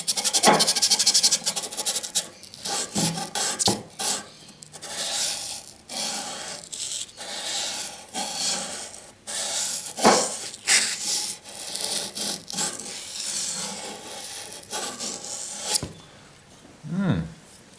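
An ESEE6 knife is sharpened on water stones, giving repeated rough rubbing and scraping strokes in an irregular rhythm, close and moderately loud, with no talking.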